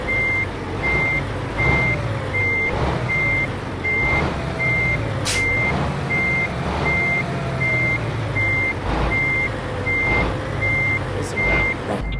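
A 2019 Volvo truck reverses in Euro Truck Simulator, its backup alarm giving evenly spaced, sustained beeps over a low engine rumble, with faint air-brake hisses here and there.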